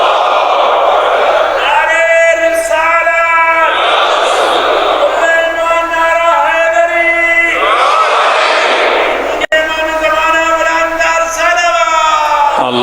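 A crowd gathered under a mosque dome chants religious slogans in unison, loud, echoing bursts of many voices repeating in rhythmic waves throughout, with a short break near the end.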